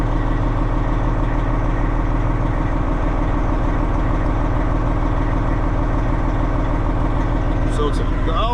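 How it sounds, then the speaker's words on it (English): A truck engine idles steadily at low revs to build air pressure before the RPMs are raised, a continuous low rumble under speech throughout, with a short higher squeal near the end. "Gotta build a little bit of air pressure. I'll let it run right quick before I turn up the RPMs."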